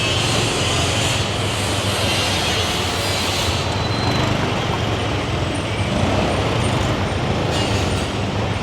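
Dense road traffic in Thailand surrounds a rider on a moving scooter, with a continuous loud roar of engines and wind and buses and trucks rumbling close by throughout.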